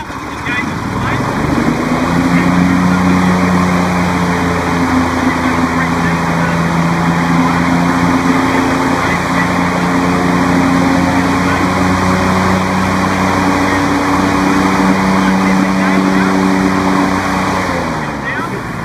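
A Toro Z Master rear-discharge mower runs loud and close with its blades engaged, a steady droning engine hum with a strong whirring tone that holds evenly throughout.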